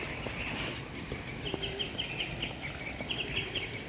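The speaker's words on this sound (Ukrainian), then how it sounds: "Пташечка нам співає." A small bird sings in the evening at a closed zoo, faint repeated high chirps over a dense background hum of other outdoor sounds, with no talk.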